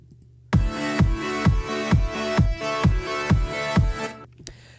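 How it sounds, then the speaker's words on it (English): Synth chords from NI Massive pump rhythmically under sidechain ducking, swelling and dipping in eight even pulses against a steady low kick, then cutting off. "you'll hear the chords ducking in and out"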